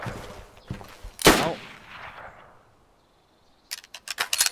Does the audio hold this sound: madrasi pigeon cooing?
no